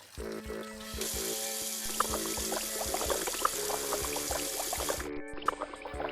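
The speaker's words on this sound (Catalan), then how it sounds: "L'aigua del lavabo comença a desbordar-se." Water runs from a washbasin tap into a school bathroom sink, a steady splashing pour that fills the basin continuously, with faint music underneath and a brief pause near the end.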